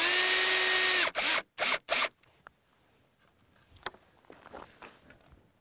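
A drill drives a screw to secure a concrete slab form board, with a steady high whine near the mic followed by three short, sharp trigger bursts, then quiet handling sounds.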